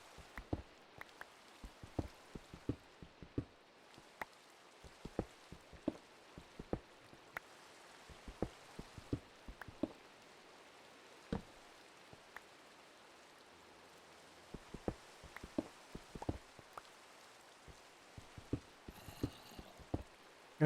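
Steady, faint rain patters over the Minecraft world, a soft hiss of falling drops with scattered small taps throughout, no voices present.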